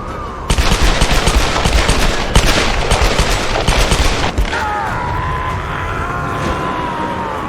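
Dual pistol gunfire in the Tomb Raider video game: a rapid string of loud, close shots in quick bursts, followed by a ringing, whining tail as the firing stops.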